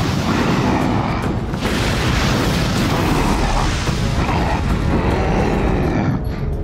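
A fire blast effect in the Avatar: The Last Airbender cartoon, a loud, sustained roaring whoosh of flame that swells and rumbles for several seconds before tapering off.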